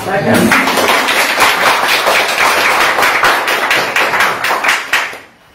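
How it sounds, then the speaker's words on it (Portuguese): Applause at a town council meeting after a project is approved: dense, sustained clapping from a room of people, loud and steady for about five seconds before fading out. "Eu peço uma salva de palmas pela aprovação"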